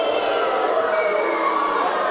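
A wrestling crowd at an MWA show cheers and chatters as a steady, loud wall of noise, with no breaks across the whole stretch.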